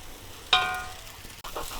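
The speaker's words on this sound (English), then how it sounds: "So make sure it's fried very well." A sudden loud sizzle of vegetables and noodles hitting a hot pan for Indo-Chinese mixed veg noodles, then a steady frying hiss that slowly fades, broken near the end by a scraping stir.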